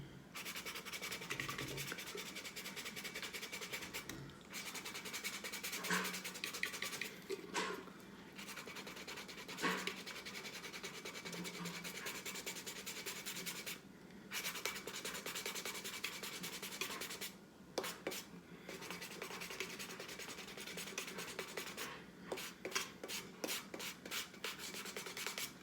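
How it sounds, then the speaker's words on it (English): Sandpaper scrubs across an alcohol ink art piece to create a geode effect: quiet, close, steady rasping strokes with brief pauses between passes. "I go in with my sandpaper to make the geode effect."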